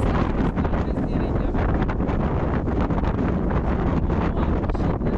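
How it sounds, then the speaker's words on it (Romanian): Strong mountain wind in Armenia, buffeting and roaring steadily across the microphone in loud, broadband gusts with no pauses, close and constant throughout. "Și vântul, să nu mai zicem de vânt."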